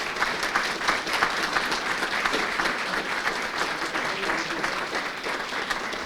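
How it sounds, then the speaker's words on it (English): A sustained round of applause from an audience at a school board meeting, dense clapping that continues evenly for several seconds without voices on top. "please join me with a round of applause."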